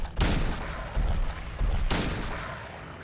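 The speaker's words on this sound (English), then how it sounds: "Let's use the hunting rifle." Hunting rifle shots ring out in the video game Silent Hill 2: four loud, booming reports spaced roughly half a second to a second apart, each with a brief rumbling tail, alone without talk.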